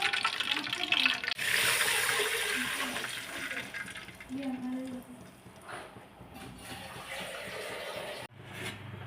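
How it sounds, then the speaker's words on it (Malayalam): Water pours into a cooking pot holding onion, cinnamon and cloves in hot oil for chicken biryani, a continuous rushing splash that later thins and breaks off, with a voice talking over it. "ഒരു പാത്രം വെള്ളം ഒഴിച്ച് ഫുള്ള് കൊടുത്തിക്കില്ല കേട്ടോ"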